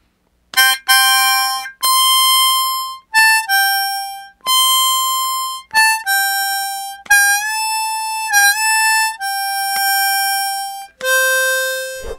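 Harmonica plays the first line of a song's solo, a string of sustained, clear reedy notes with short breaks between them, loud and close with no talking.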